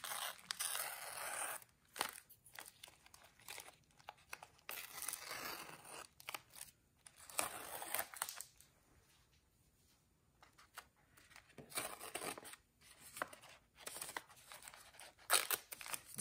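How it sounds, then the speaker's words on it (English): Masking tape is peeled in bursts off a small fall-themed painting, with ripping, crackly tearing sounds coming in several long pulls separated by brief pauses, close and fairly quiet, with no talking. "So now let's take our tape off."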